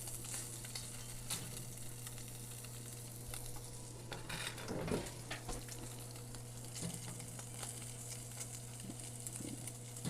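Bacon frying in a pan over a DIY rocket stove, a quiet continuous sizzle with scattered pops and the scrape of stirring, with a steady low hum underneath.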